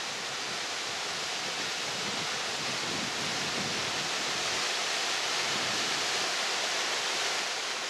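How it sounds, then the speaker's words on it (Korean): Calf Creek Falls in southern Utah pours over red sandstone cliffs into a desert pool, its steady roar a dense, unbroken wash of water noise that stays loud and close throughout, with no voices. "유타 남부 지역을 대표하는 폭포인 카프 폭포다."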